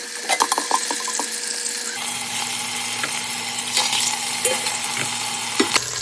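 Chicken sizzles and fries in olive oil inside an Instant Pot, with food sticking to the pot. A utensil scrapes and stirs through it up close, over a steady loud frying hiss.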